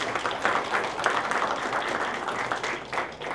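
An audience applauds at a launch challenge event, a dense, steady wash of many hands clapping together at close range, sustained evenly throughout with no voices over it.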